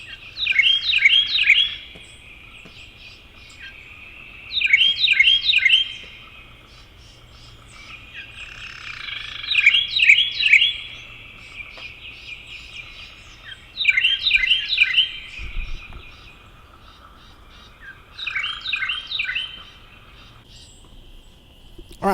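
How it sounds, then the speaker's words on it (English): Male and female Carolina wrens duet, a bright chirping phrase repeated five times at roughly four-second intervals, each burst of rapid rolling notes separated by quiet pauses, fairly close and clear. "you do see at least some simple song duetting between males and females of Carolina wrens"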